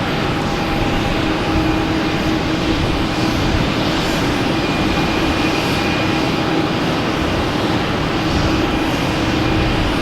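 Cape Air Cessna 402 lined up for Hyannis at Boston Logan: a loud, steady piston-engine drone with a broad roar that holds unbroken throughout, no voices over it.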